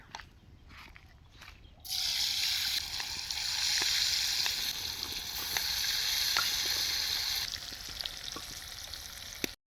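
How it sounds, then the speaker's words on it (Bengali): Paneer fries in a pan of hot oil, a dense sizzling hiss that starts abruptly after a quiet moment, holds loud and steady for several seconds, then eases off, with faint stirring clicks. "পনির মশলার পনিরটা ভেজে নেব"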